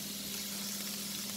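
Dried mushrooms sizzle in a pan with a constant soft hiss of frying, close by and without voices.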